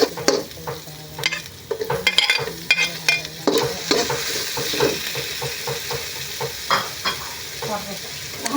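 Onion and garlic sauté in hot oil in a pan for pancit bihon guisado, with a bright sizzle broken by frequent scraping and clanking stirs of a utensil, close and lively.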